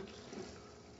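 Water released through a pipe inserted into the bottom valve of a 300-gallon storm water tank, a steady faint gushing flow running evenly throughout, with no voices.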